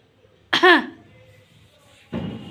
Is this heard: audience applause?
no